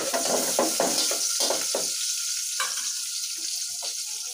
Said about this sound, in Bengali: এখন এই পেঁয়াজ কুচিগুলো খুব সুন্দরভাবে আমি তেলের মধ্যে ভেজে নিব